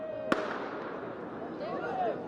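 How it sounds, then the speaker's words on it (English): Fireworks and firecrackers fired toward police during a street protest in Washington: one sharp close bang early on, then a continuous roar of crowd and street noise with a whistling streak, while people talk over it. "we also start getting fireworks and firecrackers being launched toward the police."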